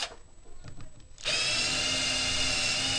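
An electric drill with a 3.3 bit bores a hole in a part for an electric drag car, whining up abruptly after a second of quiet shuffling and holding a loud, steady, high-pitched drone up close.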